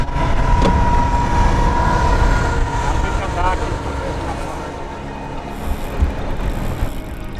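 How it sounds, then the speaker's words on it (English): A heavy freight train rumbles past close by on a riverside along the Fraser River, loud and continuous, with a brief horn-like tone and some talking mixed into the roar. "an actual freight train blasts past us on the riverside."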